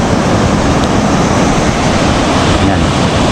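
Strong, churning ocean waves and current at a murky spearfishing spot, a loud continuous wash of surf with wind buffeting the microphone throughout.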